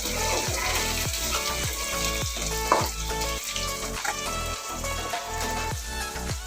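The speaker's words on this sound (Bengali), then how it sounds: "পেঁয়াজ আর জিরে ভাজা হয়ে গেলে ওইটার মধ্যে আমি ওই মিশ্রণটা দিয়ে ভালো করে সাঁতলে নেব।" Onion and cumin fry in oil in a wok as a spice paste is added, producing a loud, close, continuous sizzle with rhythmic stirring scrapes and a brief burst of spattering partway through.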